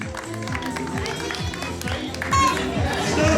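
Spectators at a youth school cycling race in Occitanie clap and cheer outdoors for a race winner, a steady crowd wash under chatter and voices, swelling louder toward the end.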